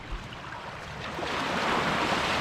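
Sea surf at an island beach washing and rushing in a steady broadband roar, growing gradually louder, with some wind noise on the microphone.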